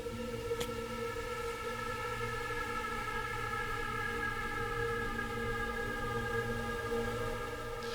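A dense, sustained drone of layered tones holds steady and loud throughout, a single cat meow hugely time-stretched into a wailing, siren-like texture.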